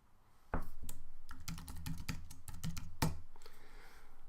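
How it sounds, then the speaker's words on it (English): Typing on a computer keyboard in a Mac setup, a quick run of close, crisp key taps with a few sharper strikes, steady and fairly loud with no talk. "When I type ver dot and the tab key"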